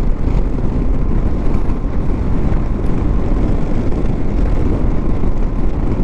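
Wind roars steadily past a rider on a V85TT motorcycle on Dartmoor, a loud, dense, unbroken rush of low buffeting noise with no pauses and no speech.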